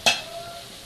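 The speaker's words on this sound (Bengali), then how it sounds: "একটু নাড়া দিয়ে ঢেকে দিবে" A utensil scrapes once through food frying in a pan, a quick close stir followed by a steady, fading sizzle.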